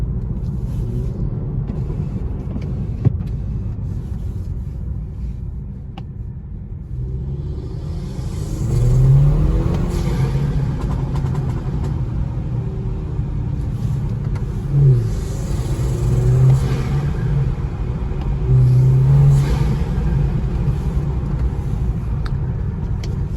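A BMW G20 320i fitted with an MST air intake drones along at a steady low rumble, swelling several times as the engine is pushed under load, with no voices.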